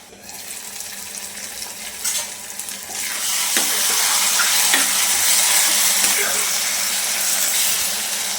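Mushroom masala bubbles and sizzles in a pan, a steady close frying hiss that grows louder partway through, with occasional light stirring sounds.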